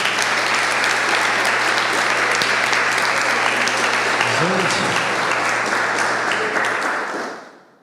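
Loud, dense audience applause at a live Brazilian psychology talk, sustained steadily for about seven seconds before tapering off, with a brief voice calling out partway through.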